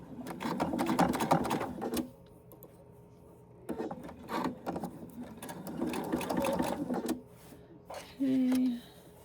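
A sewing machine back stitches a small mini wallet in loud bursts of rapid mechanical chatter. The bursts are separated by short pauses and end with a brief steady whir.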